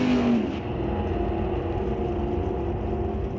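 Roadster drag cars launch at an NHRA Northwest National Open Series race at Mission Raceway, with loud engine roar peaking at the start and then holding a steady, slightly fading drone.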